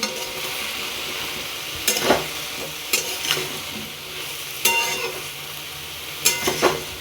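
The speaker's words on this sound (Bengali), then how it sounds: "দেখতে পাচ্ছি ভালো করে নেড়ে নিচ্ছি।" Pumpkin and Malabar spinach curry cooks in a pan under a steady sizzle, with four distinct bursts of scraping as it gets stirred, spaced a second or two apart.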